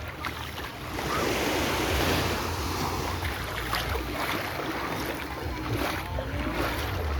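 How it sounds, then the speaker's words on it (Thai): Calm sea waves wash steadily onto a Thai beach campsite, a continuous broad surf rush with some wind noise on the microphone and no clear voices. "คลื่นเรียบทะเลเรียบ"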